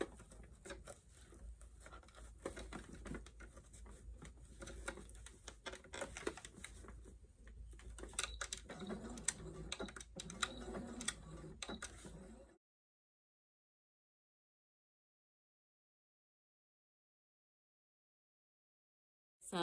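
Sewing machine stitching fabric near the bottom of a zipper on a prom gown, moving from straight to zigzag stitch; close, rapid mechanical clatter for about twelve seconds, then abrupt silence.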